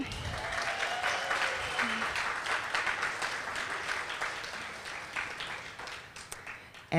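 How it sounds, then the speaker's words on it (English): Sustained crowd applause fills a graduation ceremony hall, a steady wash of many hands clapping at even loudness throughout, with no voices over it. "Can I get a round of applause for everybody that showed up tonight?"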